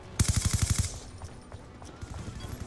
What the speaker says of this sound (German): So viele Schüsse brauche ich da.